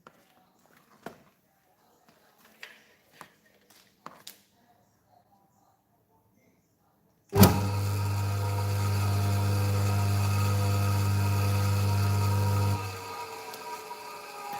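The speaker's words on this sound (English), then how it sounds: "Nice, quiet little electric motor." A small start-switch electric motor switches on abruptly after a few faint clicks and knocks, hums steadily and smoothly at close range for about five seconds, then cuts off and winds down.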